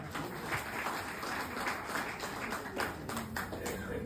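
An audience at a business meeting claps together in dense, continuous applause that holds steady for several seconds, heard from a moderate distance without clear speech.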